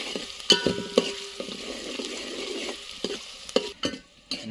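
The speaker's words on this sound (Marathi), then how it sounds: "कांदा परतून द्यायचं मस्तपैकी" Onion frying in oil in a pan over a wood-fired clay stove, a steady sizzle broken by repeated scraping stirs and a few sharp knocks of the spatula, close and alone without talk.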